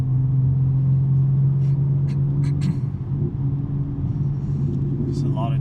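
BMW M3 with a manual six-speed gearbox cruising a freeway, its engine and exhaust a steady low drone that fills the cabin throughout, with brief faint higher noises passing over it.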